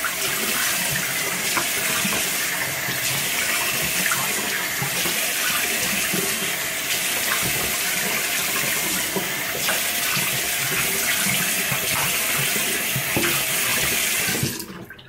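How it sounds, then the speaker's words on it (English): Tap water runs steadily into a bathroom sink while someone washes their face after shaving, a loud, close, continuous splashing rush that stops abruptly at the end, with no talking. "I'm gonna wash my face once again"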